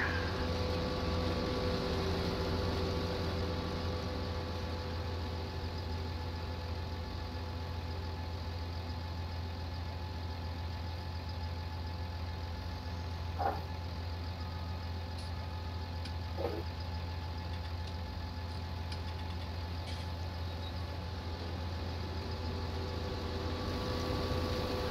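A John Deere tractor engine idles steadily in a truck-driving simulator game, a continuous low hum with faint tonal whine and two brief clicks partway through, no talking over it.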